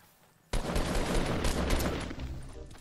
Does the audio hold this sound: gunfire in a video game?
yes